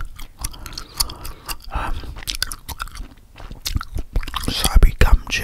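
Gum chewing in an ASMR setting, close-up wet smacks and soft crunchy chews repeating irregularly near the microphone, mixed with quiet whispered talk throughout.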